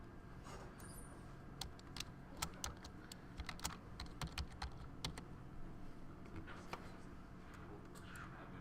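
Irregular bursts of clicking keystrokes on a computer keyboard in a dim room, close but quiet over a low background hum.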